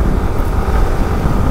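A motorbike engine rumbles while riding, a continuous low drone mixed with wind buffeting the microphone, steady and close with no talk.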